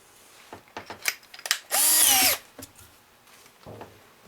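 A power drill with a 1/4 inch bit bores into a tree limb in one short, loud whirring burst, framed by scattered handling knocks and clicks nearby.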